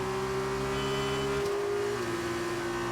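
Formula 1 race car in the F1 2019 video game running down the straight at the Red Bull Ring, a steady high engine whine holding pitch, then a brief gear change midway, loud and continuous throughout.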